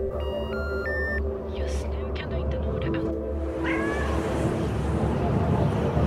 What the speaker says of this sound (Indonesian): di mana Michael akan ditemani seekor kucing